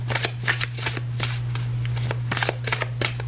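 Tarot cards being shuffled by hand, a rapid run of crisp riffling flicks and slaps repeating through the clip over a steady low hum, close and fairly loud with no talk.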